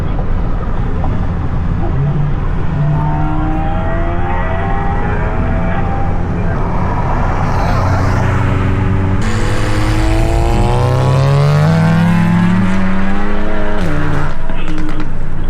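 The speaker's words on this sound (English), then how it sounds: "Wide open throttle." A Volkswagen GTI accelerates hard at wide open throttle on city streets, its engine note climbing steadily and loudly through the gears from inside the car, with people talking over the continuous roar.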